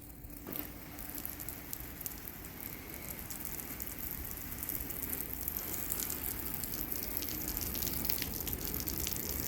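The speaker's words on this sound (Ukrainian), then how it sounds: "Полиємо сонячну панель холодною водою з-під крана." Cold tap water, around 15 degrees, poured over a solar panel: a steady close splashing and pattering wash that holds on continuously without talk.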